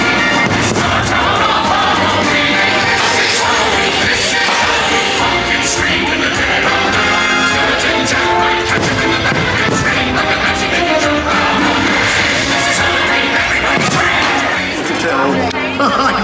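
Fireworks at Disney's Mickey's Not So Scary Halloween Party, with dense booms and crackles rolling continuously under a loud, chattering crowd.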